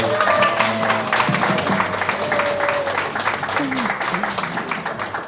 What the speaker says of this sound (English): can I get one more round of applause for Lily?